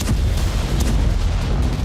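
A heavy, sustained low rumble of explosions in Iranian cities under an Israeli attack, with a couple of brief sharper bursts over the roar.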